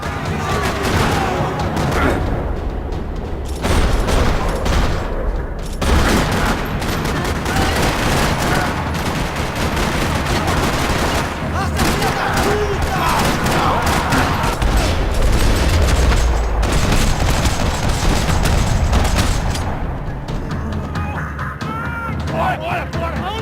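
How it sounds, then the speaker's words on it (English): Dense gunfire rattles through a parking lot in the video game Max Payne 3, loud and nearly continuous bursts with booming impacts, a voice and other sounds layered under the shooting. "Another parking lot rattling with gunfire."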